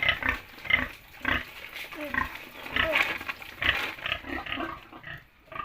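Pigs on a farm grunt and snort repeatedly in close, loud bursts with short pauses, a busy irregular rhythm of animal calls at a pig artificial-insemination session, with no talking over them.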